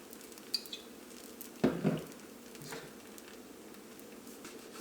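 Kerala parotta cooking on a hot pan with oil poured over it, giving a soft sizzle with a few metallic clinks of pan and utensil, and one louder scrape partway through.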